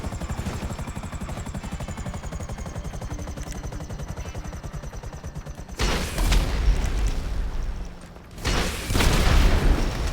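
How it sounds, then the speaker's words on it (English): Missiles strike a helicopter in a video game: a steady rotor drone runs first, then two heavy booming blasts follow, the second after a brief dip, loud and close with no talking. "let's see how many missiles it takes to take this thing out"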